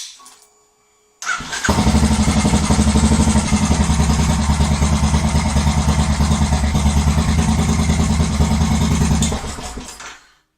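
Royal Enfield GT 535 motorcycle fitted with Hitchcock camshafts starting up after a short quiet moment, then idling steadily and loudly for about eight seconds before shutting off, a faint mechanical whine carried in the engine note.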